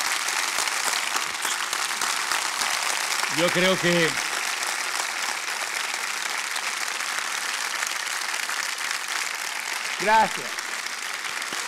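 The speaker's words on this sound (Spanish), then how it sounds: "un aplauso, por favor" Sustained audience applause fills a Spanish talk-show studio as a guest rises, steady clapping throughout with a man's brief spoken thanks breaking in twice.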